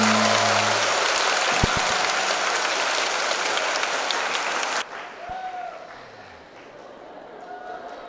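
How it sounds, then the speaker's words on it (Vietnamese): Audience applause at a Buddhist dharma talk, a dense, steady clapping wash that fills the first five seconds, then drops abruptly to a quieter hall with faint murmurs. "Cảm ơn những tràng vỗ tay nhiệt tình của các bạn."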